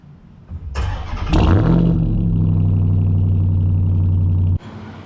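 A 2025 Toyota Tundra TRD PRO with the iForce Max engine cranks and fires up, the revs jumping loudly before settling into a steady, deep idle hum that cuts off near the end, heard close without speech.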